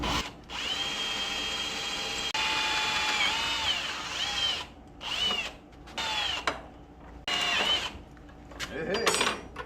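A power drill pre-drills holes in steel on a 1981 Corvette, whining in several close bursts of varying length with pauses between, the pitch sagging as the bit loads up and climbing again as it frees.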